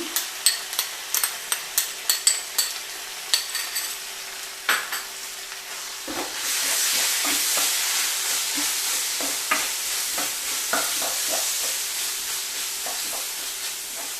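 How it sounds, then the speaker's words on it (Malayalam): Tomato sauce is poured into a pan of chilli soya, starting with a run of sharp spatula clicks and scrapes, then a loud, steady sizzle that rises suddenly and holds while stirring goes on underneath. "ഇതിലേക്ക് നമ്മൾ ടൊമാറ്റോ സോസ് ഒഴിച്ചു കൊടുക്കുകയാണ്."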